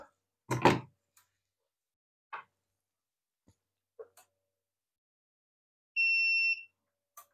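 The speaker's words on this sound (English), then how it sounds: "Turn on the beeper." An electronic beeper switched on by a test program gives a single short, clean tone near the end, preceded by sparse clicks and small handling noises in a quiet room.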